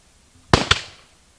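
Cannon firing at an outdoor event on Crab Island, two sharp booming blasts close together and close by, each trailing off into a short echo, with no talk.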